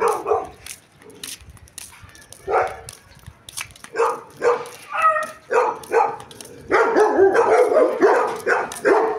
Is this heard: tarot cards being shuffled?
no